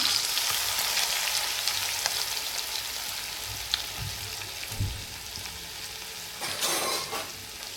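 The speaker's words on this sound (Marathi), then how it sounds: "लसूणला परतून घेते. हे बघा, थोडा लाल होऊ देते." Garlic and curry leaves fry in a pan for a bhindi dish, producing a steady quiet sizzle with occasional soft stirring scrapes and a few light knocks, close and without voices.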